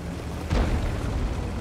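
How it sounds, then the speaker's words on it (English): Tank cannon firing in World of Tanks, a single deep, booming blast at mid-distance that rises out of steady low battle rumble and decays over about a second. "Kampanzer just fired."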